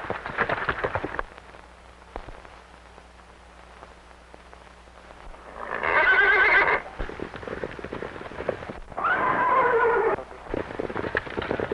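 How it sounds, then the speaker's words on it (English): A horse in a 1934 Western film neighs twice, with loud whinnies rising over a soft background hiss, alongside scattered hoof-like knocks and thuds. "What a horse."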